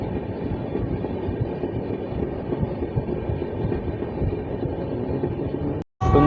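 A passenger train on the Coochbehar–Kolkata route runs non-stop toward New Jalpaiguri, giving a continuous close rumble and rattle from inside the carriage, cut by a sudden brief dropout just before the end.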